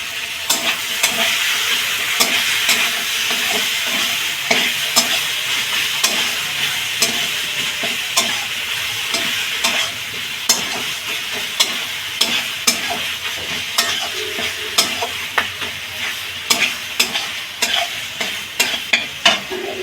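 Freshly ground spice paste frying in a pan for a pointed gourd dish, with loud continuous sizzling and frequent sharp scraping stirs of a spoon throughout, no voices.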